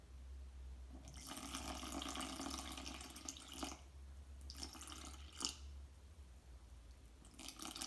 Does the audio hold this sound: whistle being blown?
no